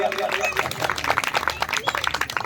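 Audience applause at a Dr B.R. Ambedkar Jayanti gathering: a dense, steady patter of many hands clapping across the whole stretch, mixed with crowd murmur.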